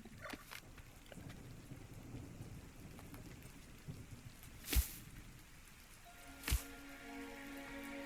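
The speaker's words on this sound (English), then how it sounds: "do like the sound of the rain in the game" Steady rain patters throughout an ARK Survival Ascended game world, broken by two sharp, loud thunder cracks a couple of seconds apart, with no voices.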